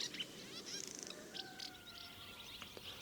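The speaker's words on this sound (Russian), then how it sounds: "Предотлетные стаи ласточек." A large pre-migration flock of swallows gathered at the end of summer, giving off a dense, continuous chatter of overlapping high twitters and chirps from many birds at once, steady and moderately near, with no voices.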